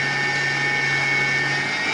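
A kitchen mixer whirs steadily at high speed, a loud continuous motor hum with no pauses.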